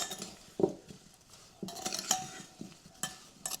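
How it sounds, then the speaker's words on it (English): Sugar stirred into a bowl of fresh strawberries with a utensil, soft wet squelches and scattered clinks against the bowl, close and quiet, no voices. "Just going to sprinkle that in. Give it a stir."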